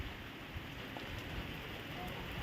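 Heavy storm rain falls steadily on a small hut, a dense, even hiss that stays unbroken throughout, fairly faint, with no talking.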